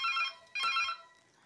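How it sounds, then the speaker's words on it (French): Two electronic telephone ring bursts in a home kitchen, each trilling warble lasting about half a second with a short gap between, moderately loud and close, with no voices over them. "Tiens, le téléphone sonne."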